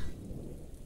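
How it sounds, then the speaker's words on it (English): Heavy rain falling in the Frogsong video game, a dense steady rumbling wash with low thundery weight, brief and continuous. "it's raining really hard"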